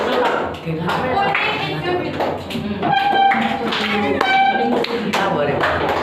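Seventh-grade students clap in a concentration game in a classroom, a scatter of group hand claps in short bursts, mixed with voices and a teacher speaking between rounds.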